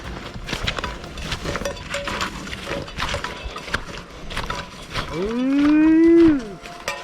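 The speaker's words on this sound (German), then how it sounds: "Hier sieht man eine Kuh auf der Weide." A single long, loud cow moo rises and falls near the end, after a stretch of outdoor rustling and shuffling in a pasture.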